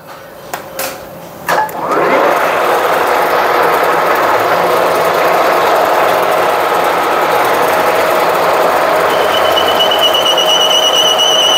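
A lathe tool bit cutting a keyway groove into a Hendrickson tandem suspension bushing: a few knocks, then a loud, steady grinding hiss with a faint whine that continues unbroken at close range.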